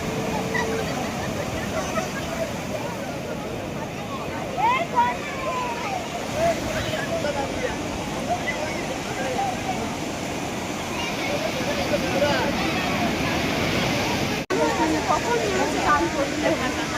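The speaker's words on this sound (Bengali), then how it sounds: "ঢেউগুলো দেখি সকালে।" Sea waves wash onto the beach at Puri, a steady broad rushing surf that runs throughout, with people talking nearby over it.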